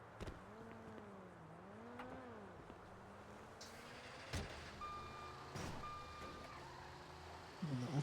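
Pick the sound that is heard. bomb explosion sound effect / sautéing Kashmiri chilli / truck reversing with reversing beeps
truck reversing with reversing beeps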